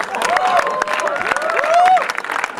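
Comedy club audience at a Knights of Comedy standup show breaking into applause and cheering, a dense wash of clapping with a voice talking over it.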